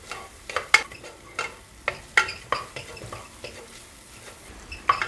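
Pounded spices roasting in butter for an amaranth (arai keerai) stem soup; a soft, faint sizzle sits under a series of irregular stirring scrapes and light metallic clinks of a spoon against the pan, no voices.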